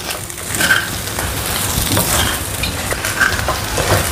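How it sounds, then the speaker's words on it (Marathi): Sabudana khichdi being stirred and mixed in a pan, a continuous close scraping and soft sizzling texture throughout without pauses. "पूर्ण मिक्स करून घेते"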